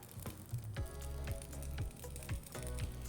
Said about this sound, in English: Your little sizzle.